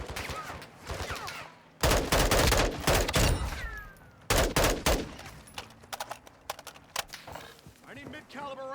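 Rapid bursts of automatic gunfire and single shots crack through a military shooter video game, clustered volleys with short pauses, mixed with radio chatter and game voices.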